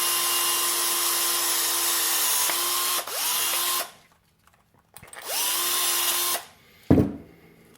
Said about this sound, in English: Whoever came up with the stepper bit was a smart person.